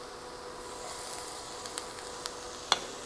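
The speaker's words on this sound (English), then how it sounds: "Ooh, hear that sizzle?" Steady sizzling of onions frying in hot oil, a soft continuous hiss with a few small pops and crackles, close and moderately quiet.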